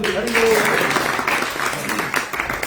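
Vigorous clapping from a devotional class audience at a Rath Yatra Bhagavat Hari Katha gathering in Labasa, a full, continuous round of applause close by with a voice talking over it.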